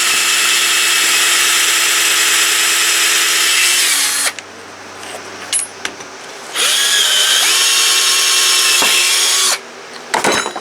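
A power drill bores a hole in a deer antler, its loud high whine running steadily for about four seconds, dropping off briefly with scraping handling noises, then whining again before stopping, very close.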